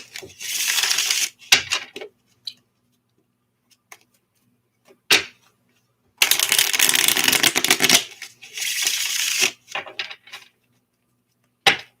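Tarot cards being shuffled by hand: bursts of crisp riffling and flicking in several separate runs, close and fairly loud, with quiet pauses between them and no talking.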